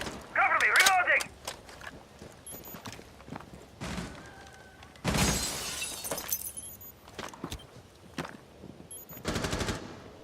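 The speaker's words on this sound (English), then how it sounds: "Throwing stun grenade." A stun grenade detonates in a tactical video game match, a sharp crackling burst followed by gunfire-like bangs and bursts, loud and close, with brief voice callouts between the blasts.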